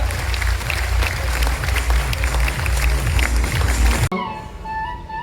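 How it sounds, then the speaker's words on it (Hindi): Audience applause in a university auditorium, dense sustained clapping for about four seconds, then abruptly cut to a quieter room tone. "तालियां, आपकी तालियां बजती रहनी चाहिए, देखते मत रहिए।"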